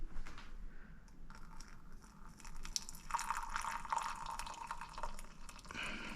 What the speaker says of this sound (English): And then I'm going to add some coffee.